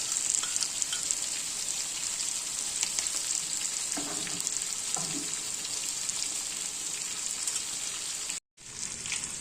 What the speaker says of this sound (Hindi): इसे आपने तेज आंच ही बनाना है क्योंकि चिकन तो गला हुआ है।